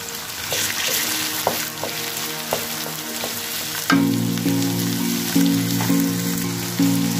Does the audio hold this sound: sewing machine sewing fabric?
no